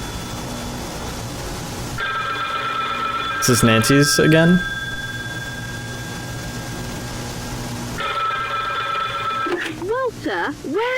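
An in-game telephone rings in The Winterland Incident, a steady electronic trill that starts, pauses, and resumes at moderate loudness over an ambient drone, with a voice speaking briefly in between.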